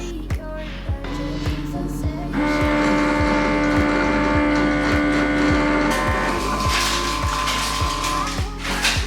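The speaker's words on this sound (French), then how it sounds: "Commençons le lavage de la serpillière à l'eau chaude." An Ecovacs Deebot T80 Omni docking station washing its mop with hot water: a steady mechanical hum with a pump-like whine that swells partway through, over a regular ticking click, close and moderately loud.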